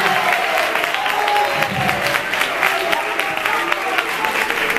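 Audience at a high school graduation ceremony gives a strong round of applause, steady dense clapping with some cheering throughout, fairly loud and with no speech over it.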